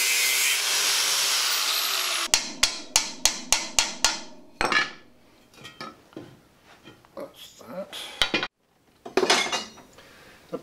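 An old floorboard clout nail being cut down in a metal workshop, a hissing grinding sound giving way to a rapid series of sharp metallic taps, then irregular clanks and scraping, close and fairly loud.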